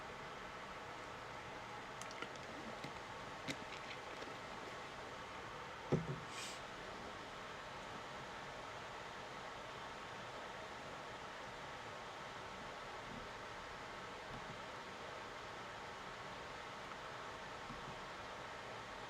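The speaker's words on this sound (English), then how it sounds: "That's actually my air conditioner, so apologize for that, my AC unit." A steady, low mechanical hum with broadband airy noise runs throughout, with a brief louder knock partway through.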